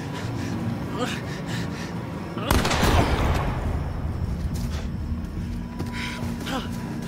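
A single gunshot in The Quarry, fired at about two and a half seconds as a sharp broadband burst over ongoing game music and ambience, with a tail that fades gradually.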